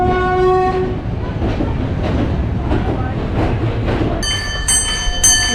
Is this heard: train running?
yes